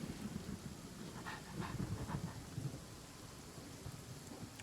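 Rain falls heavily and thunder rumbles low in a Genshin Impact game scene, a dense, even downpour with faint rolls of thunder and no talking.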